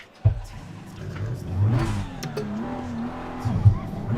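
BMW race car in Assetto Corsa Competizione revving hard, with the engine pitch climbing and falling through several throttle blips and a sustained rising note, loud and close, with brief speech-like sounds mixed in.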